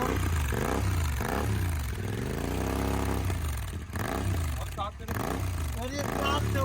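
A Royal Enfield GT 650 fitted with a Red Rooster exhaust and dB killer revs repeatedly, each blip rising and falling in pitch with short crackles between pulls, loud and close, while someone talks over it.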